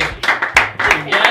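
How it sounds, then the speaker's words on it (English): Studio audience on a morning talk show clapping in short bursts, close and fairly loud, mixed with a voice speaking over it. "Yes, you should clap."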